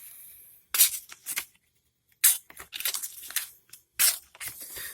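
An Enlan M07 liner-lock folding knife with a sub-three-inch blade slices through material in four crisp tearing bursts separated by short silences, close and clear with no voices.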